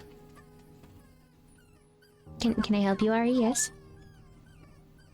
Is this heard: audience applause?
no